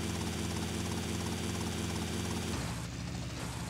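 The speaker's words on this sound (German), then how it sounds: "Ich kann mit dem fucking Heli da nicht landen." A helicopter in a modded GTA Vice City game whirs with a steady, dense rotor and engine drone that drops to a thinner tone near the end, with no talk over it.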